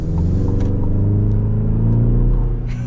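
A 2024 GMC Canyon Elevation pickup truck accelerating from a traffic light, heard from inside as a loud, steady engine drone whose pitch climbs smoothly through the pull, with no talking.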